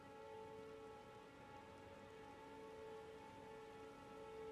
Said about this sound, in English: there's this hissing sound in the background, but I think it's the rain